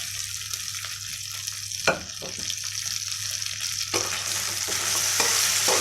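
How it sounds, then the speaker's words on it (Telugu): Boiled mutton fries in a hot pan, sizzling steadily up close while a utensil stirs and scrapes through it, with a sharp knock against the pan partway through and the sizzle swelling louder toward the end; nobody speaks. "ఒక 1 మినిట్ ఫ్రై చేసుకుందాం. ఇందులోనే బాయిల్ చేసి పెట్టుకున్న మటన్ వేసుకోవాలి."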